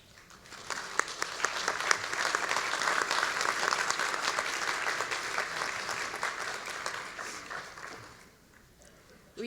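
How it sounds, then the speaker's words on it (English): Graduating students stand and applaud at a 2019 university commencement, a broad roar of crowd clapping from a large hall that builds, holds steady for several seconds, then fades away near the end. "Students, I ask you to stand and applaud for all those people who have loved and supported you."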